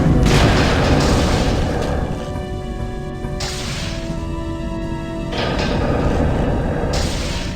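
Explosion in the video game Star Trek Elite Force, a loud, sustained rumbling boom with crashing debris and a shifting mechanical roar that swells, dips and rises again, with no voices.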